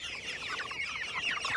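Chickens cluck steadily in a crowded pen of around 39 birds, a dense, continuous chatter of overlapping clucks close by, with no talking.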